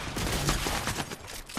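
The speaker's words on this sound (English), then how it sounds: "Just spam the shotgun." Rapid shotgun blasts fired over and over in a 3v3 shooter match, a dense run of sharp bursts with hardly a gap between them, loud and close, with no talking.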